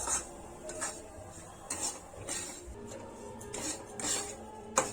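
A spoon scrapes and stirs a khoya, semolina and coconut mix as it roasts in a kadhai, giving soft, steady scraping strokes with faint clinks against the pan, close and quiet.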